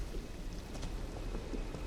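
Rain and thunder in the video game Elden Ring: a steady, soft hiss of falling rain with a low rumbling underneath, continuous and fairly quiet, with no talking.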